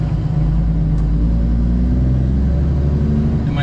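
A semi truck's diesel engine idles and runs rough with a low, droning rumble, loud and close, steady across the whole stretch without speech.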